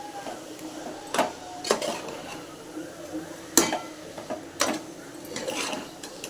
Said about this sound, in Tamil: இப்போ எல்லாம் சேர்த்து கொஞ்சம் நேரம் நல்லா வதக்க விடலாம்